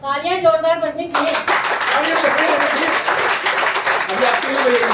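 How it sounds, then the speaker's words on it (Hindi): Loud, steady audience clapping at an International Women's Day function fills the hall, following a man's amplified speech and running under a few raised voices. "तालियां जोरदार बजनी चाहिए"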